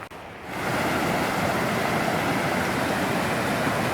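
Reed Creek on Terrapin Mountain in Virginia's Jefferson National Forest rushes turbulently, a loud, steady roar of churning water that swells in after a brief quieter moment and then holds constant, close by.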